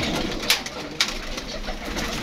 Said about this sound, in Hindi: माशाल्लाह दोस्तों कबूतर है